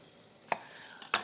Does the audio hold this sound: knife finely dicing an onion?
yes